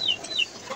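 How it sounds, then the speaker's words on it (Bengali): Indigenous chickens on a small home farm give two short, close clucks, soft and brief against quiet background. "দেশি মুরগি আছে এখানে 3টা"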